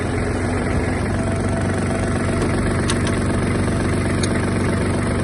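A Kubota GB-18 Japanese mini tractor engine idles steadily and loudly up close, a constant low rumble with no change in pace.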